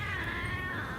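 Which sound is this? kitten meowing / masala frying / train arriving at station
kitten meowing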